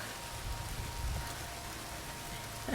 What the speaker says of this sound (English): you can hear the rain is coming down